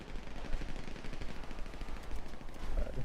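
Rapid bursts of gunfire aimed at vehicles during a GTA roleplay gang war, faint and slightly distant, with rattling automatic shots crowding together over a low rumble.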